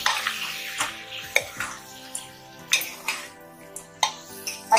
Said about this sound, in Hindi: मैंने डाल दिए, अब इनको मिक्स कर देंगे।